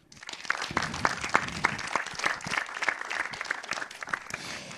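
An audience at a public talk on algorithms and targeted content gives a hearty round of applause, a close, dense stretch of clapping with audible individual claps that runs for the whole few seconds without talk.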